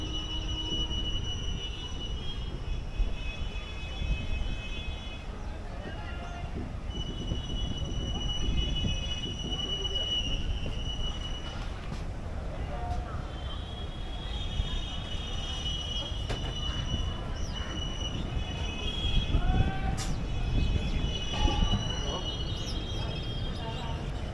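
A Delhi local train moves off after a short halt, a steady low rumble with occasional wheel squeal and brief metallic accents, fairly faint and continuous, with some background voices and a bird or two.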